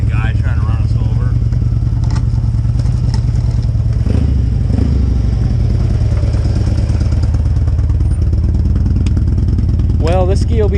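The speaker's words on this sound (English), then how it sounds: "Got some Harley guy trying to run us over." A Harley motorcycle rides close by, its loud, steady engine rumble filling the whole stretch with faint voices underneath.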